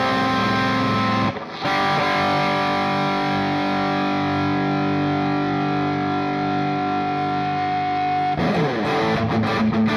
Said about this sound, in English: So let's dial in some high gain tones and see if we're still seeing an improvement here or not.